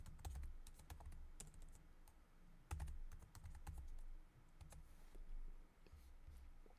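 Typing in a software name on a computer keyboard, steady clusters of close, crisp key clicks with short pauses, no talking.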